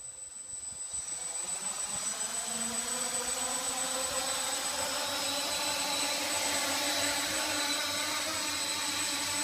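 A Scarab QuadOcta multirotor drone on its maiden flight gives a steady, loud high-pitched whine with a droning hum that swells as it lifts off and then holds level throughout.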